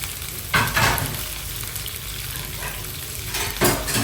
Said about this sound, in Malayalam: അതിലോട്ട് ഞാൻ ഓണിയൻ ആഡ് ചെയ്തു. ക്യാരറ്റും ക്യാപ്സിക്കും ഗ്രീൻ ചില്ലിയും ആഡ് ചെയ്തിട്ട്